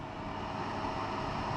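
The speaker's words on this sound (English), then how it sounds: "wait for that pump to start kicking in." A portable Chinese diesel heater built into a fishing tackle box runs with a steady droning whir as its pump kicks in, a continuous close hum without pauses.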